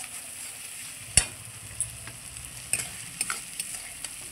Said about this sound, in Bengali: এই দেখুন বন্ধুরা কত সুন্দর কষানো হয়েছে